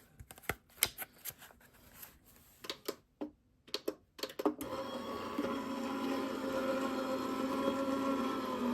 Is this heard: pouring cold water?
no